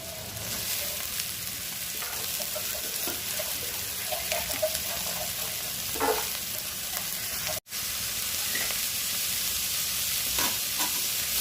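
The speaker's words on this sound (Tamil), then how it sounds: "இப்போ நான் வந்து கேரட், பீன்ஸ், பச்சை பட்டாணி கொஞ்சம் ஆட் பண்ணேன்" Carrots, beans and green peas sautéing in a pan for white vegetable biryani: continuous sizzling with frequent stirring scrapes and clacks, briefly cutting out midway before carrying on.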